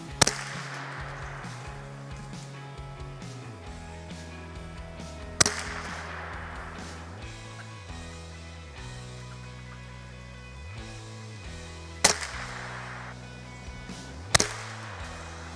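Gunshots during a squirrel hunt: four sharp cracks spread across the stretch, the first and third standing out, over a steady low background hum with no talking.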